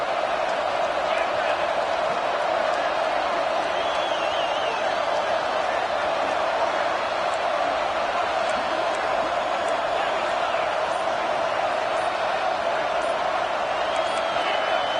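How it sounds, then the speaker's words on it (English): Steady roar of a packed stadium crowd in the College Football 26 video game, a dense continuous wash of noise at even loudness for the whole stretch with no talk heard. "with this place rocking, the crowd forces a false start"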